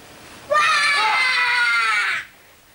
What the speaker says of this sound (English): Oh, stop screaming, Toby